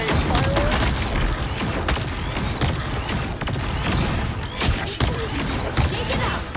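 Iron Man's firework-like blasts in the Marvel Rivals video game, a dense, continuous barrage of loud booms and crackling bursts with sharp impacts around the 3 and 5 second marks.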